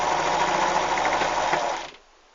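A sewing machine stitches a small ruffle onto fabric for a rag doll, a steady continuous whir that runs for about two seconds and then stops.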